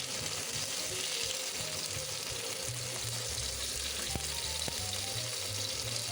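Pork steak slices searing in a frying pan for Japanese tonteki, a steady close sizzle and crackle of frying throughout, with faint clinks near the end and no talk.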